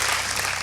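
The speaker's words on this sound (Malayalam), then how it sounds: "അവർക്കൊന്ന് നല്ലോണം ക്ലാപ്പ് അടിച്ച് ശക്തിയായിട്ട്" An audience claps loudly and densely for a school quiz team, a brief burst of continuous applause heard up close.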